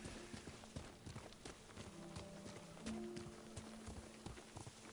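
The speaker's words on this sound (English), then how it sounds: "That's your horse. This is my horse." A horse's hooves in the video game Ghost of Tsushima, with a steady clip-clop of hoofbeats over faint ambient tones and a soft background bed.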